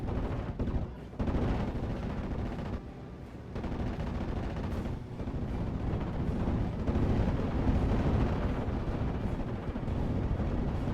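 Dense artillery barrage and gunfire from a Steel Division battle, a continuous rumble of blasts and shots layered together, loud and sustained.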